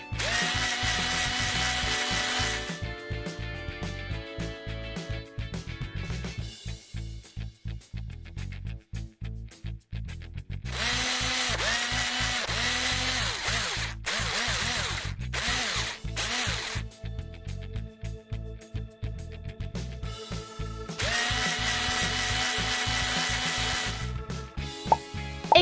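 A power drill driving self-tapping screws through styrofoam into wood for a floating raft island, with long loud whirring runs that drop into brief pauses and then start again, close by, with no voices.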